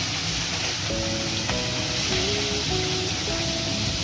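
Pomfret pieces frying in a pan of oil give a continuous dense hiss, steady in level throughout, with a soft melodic tune running beneath.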